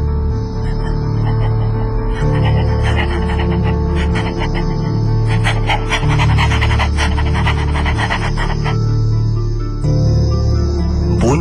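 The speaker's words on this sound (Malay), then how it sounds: "Bunyi anjing juga, tapi anjing yang sedang mengembuskan nafas, yang sedang keluarkan lidahnya" Steady, rapid panting breaths running continuously and close by, with a raspy rhythmic texture and no talking.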